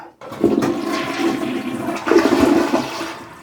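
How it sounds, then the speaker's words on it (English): A household toilet with a leaking wax ring is flushed after its water supply is turned off, giving a loud, close rush of water that swells, surges again midway and then drains down, with no talking. "I'm going to turn the cold off. That's off, and I'll just flush it."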